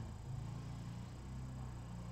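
A low, steady grumbling engine drone runs in the background throughout, like a rototiller working at a distance, with no talking.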